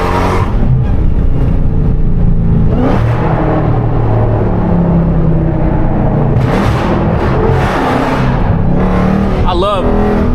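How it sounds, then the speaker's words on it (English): A widebody Dodge Hellcat with lowering springs roars loudly and continuously up close as it revs and accelerates, with a few sharp pops, while someone talks over the engine. "I love my car backfire, man."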